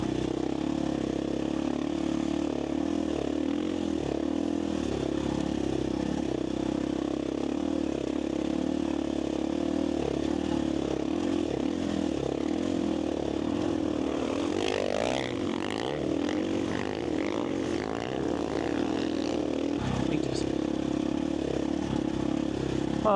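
Dirt bike motorcycles riding through desert terrain on a training ride for the Finke desert race, with a constant loud close engine drone, rising revs and rattling clatter over rough ground.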